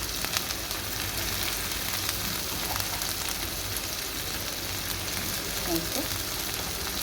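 Onions for an egg curry frying in a pan, giving a steady, even sizzle throughout with faint crackles near the close and no voices.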